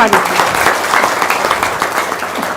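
An audience at a religious talk applauds, a loud, dense round of clapping from many hands with a murmur of voices underneath, sustained to the end.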